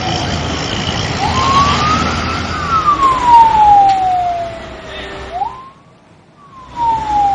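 A fire engine siren wails loudly at a burning fruit truck, its pitch sweeping up and slowly down over rumbling traffic, then briefly cutting out before starting again.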